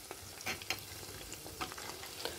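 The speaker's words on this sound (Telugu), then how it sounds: "చక్కగా వేగాలి కదా ఫ్రెండ్స్, అందుకు స్లో మీడియంలో పెట్టుకున్నాను" Food frying in oil over slow-medium heat, a steady close sizzle with a few sharper crackles and pops, no talk.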